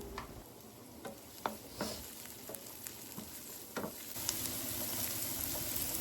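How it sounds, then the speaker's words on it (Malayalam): Onion, garlic, a sprig of curry leaves and salt sauté in oil for a cherry tomato chutney, producing a faint, steady sizzle broken by light clicks and scrapes of stirring. "അതിലേക്ക് ഒരു തണ്ട് കറിവേപ്പിലയും ആവശ്യത്തിന് ഉപ്പും ചേർത്ത് നന്നായിട്ട് വഴറ്റിയെടുക്കാം."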